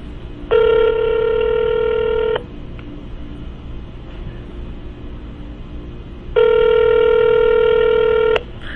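Outgoing telephone call ringing: two steady, loud electronic ring tones, each about two seconds long and separated by a roughly four-second pause, over a low background rumble.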